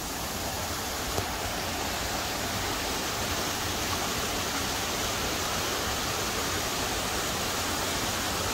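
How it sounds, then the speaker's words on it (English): A mountain stream on the Appalachian Trail near Killington Peak rushes steadily downhill, splitting in two directions, a continuous broad wash of water that stays constant and close with no voices. "Water coming down, kind of split in both directions."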